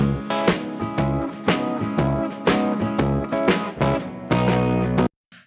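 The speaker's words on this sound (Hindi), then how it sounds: "ये सैचुरेशन ऐड करेगा, बेसिकली आपका ट्यूब सैचुरेशन ड्राइव ये ऐड करता है।" A lo-fi beat runs through the Cymatics Origin LoFi plugin with tube saturation drive added, giving thick, gritty, rhythmic chords and bass hits in short pulsing phrases. The music is loud, then cuts off abruptly near the end.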